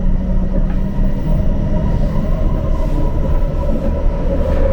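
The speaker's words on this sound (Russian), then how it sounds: "и тут еще, я так понял, какой-то поезд ходит" Non-electrified diesel train rolling past close to a station in Toronto, a loud, continuous low rumble with steady mechanical droning and no break.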